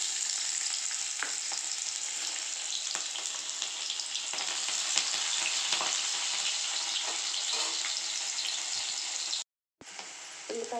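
Onions and green chillies sizzle steadily in a hot pan, a close, continuous crackling fry with a few stirring scrapes and a short gap near the end; no one speaks.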